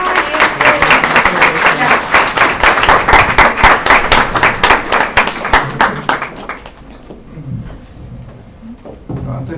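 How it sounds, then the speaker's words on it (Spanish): An audience at an obstetrics conference in Puerto Montt gives loud, sustained applause with dense clapping for about six seconds, then it fades out to faint room noise and a few scattered sounds. "por favor, un aplauso"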